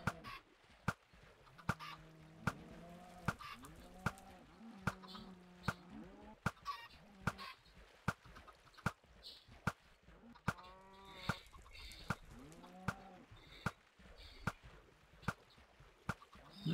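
Chickens in a chicken loader in a video game cluck and squawk in repeated bursts, joined by sharp regular clicking or clanking beats from the machinery, moderately loud and close, with no voices.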